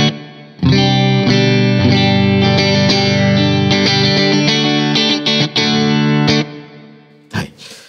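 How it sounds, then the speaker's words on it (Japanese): A Strymon Cloudburst reverb pedal on an instrument gives sustained, distorted notes and chords a lush, swelling wash that lingers, then cuts off, with a short reverberant burst near the end. "で、徐々に上げていくとリバーブが目立ってきますね。"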